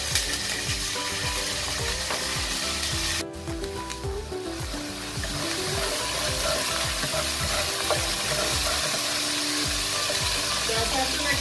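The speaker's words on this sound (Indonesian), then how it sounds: "Saya akan tumis sekarang ya" Garlic and ginger sautéing in hot oil for fish ball soup, a loud, steady sizzle with stirring scrapes that briefly dips partway through, then continues.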